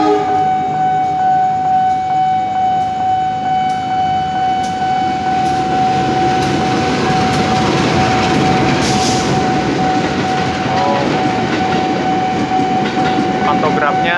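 An Indonesian KRL electric commuter train with its pantograph removed rumbles past close by with a steady roar, metallic squeals and clatter of wheels on rail throughout.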